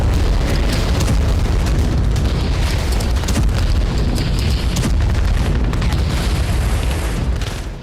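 An American guided bomb explodes and destroys a factory building in Vovchansk during the Russia-Ukraine war, producing a loud, sustained, roaring blast rumble that fills the whole stretch before fading slightly at the end.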